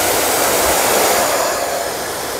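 Steady rushing airflow from a running Pro1 hair dryer with a brushless motor, close by, easing slightly in loudness toward the end.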